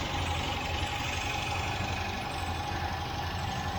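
A 1967 MGB Mk1 engine runs at a steady, rough idle while its carburettors are being tuned, giving a continuous low rumble up close.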